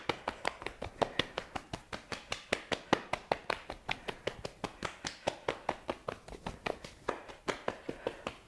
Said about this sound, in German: nochmal klopfen